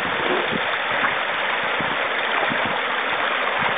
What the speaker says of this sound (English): The water just squirting out of the ground today here.